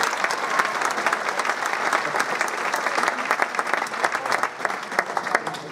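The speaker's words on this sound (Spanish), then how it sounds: "Aplausos." Dense, sustained applause from a large audience at a tribute event honoring a doctor, steady and loud throughout with countless overlapping hand claps and no speech on top.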